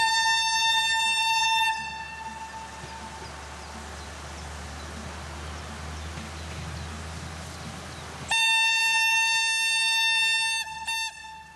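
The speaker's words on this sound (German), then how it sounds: "Zwei Dieselmaschinen der Marke Talbot mit jeweils 154 kW beschleunigen den Zug auf 40 km in der Stunde." A Selketal narrow-gauge diesel railcar in the Harz, powered by two 154 kW Talbot engines, sounds loud, sustained horn blasts, then rumbles along steadily before the horn blares again, ending in shorter toots.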